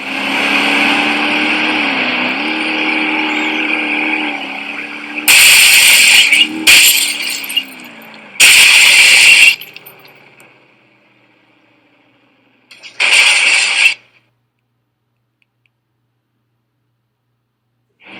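Car engines rev and race, starting with a sustained droning whine that rises in pitch, then several loud bursts of roaring noise separated by near-silence before the sound fades out.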